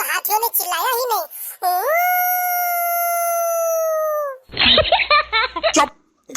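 In a cartoon comedy, a voice imitates a jackal with one long, wavering, sustained howl, framed by quick excited chatter before and after.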